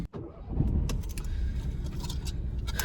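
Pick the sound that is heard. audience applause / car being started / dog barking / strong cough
car being started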